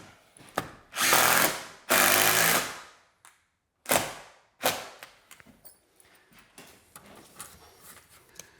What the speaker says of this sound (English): We can just drive screws all day long.